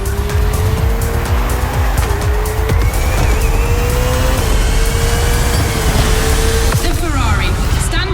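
A Ferrari race car in The Crew Motorfest, on a Red Bull Speed Clash course, holds a loud engine whine while its tires squeal and skid almost continuously, close and dense throughout.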